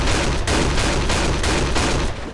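A Striker 12 shotgun fires rapidly in the shooting game AVA, a loud close burst of about five heavy booming blasts in quick rhythm, fading out at the end.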